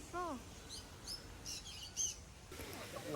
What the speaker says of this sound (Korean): 들어가자마자 작은 새들부터 마주할 수가 있었는데